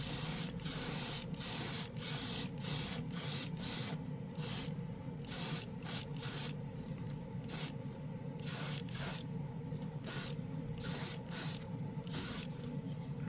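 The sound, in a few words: budget airbrush spraying paint on a Bronco model kit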